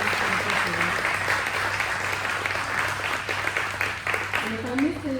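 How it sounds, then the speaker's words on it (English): Audience applause at an education policy event, a steady patter of clapping from a seated crowd with a steady hum underneath and brief voices near the end. "let's give a round of applause and appreciation"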